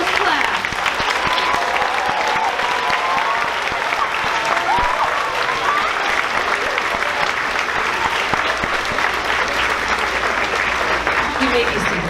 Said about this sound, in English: Please give a round of applause for Ms.